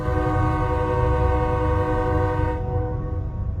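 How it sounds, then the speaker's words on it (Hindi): A train sounding a loud, sustained horn as it pulls into a railway platform, the steady tonal blast cutting off partway through over a constant rumble. "कुछ समय बाद ट्रेन आ जाती है और वह ट्रेन अपने प्लेटफॉर्म पर रुक जाती है।"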